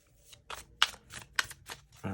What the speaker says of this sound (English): I'll do 2 more shuffles here if nothing pops out